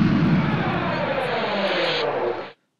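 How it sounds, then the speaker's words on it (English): Simulated locomotive engine from a JMRI virtual sound decoder shutting down, a steady loud broadband rumble and hiss that holds evenly, then cuts off abruptly near the end into silence. "you're going to hear the engine shut down, and the sounds will go away"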